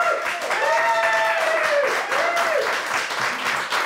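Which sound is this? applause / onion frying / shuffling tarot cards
applause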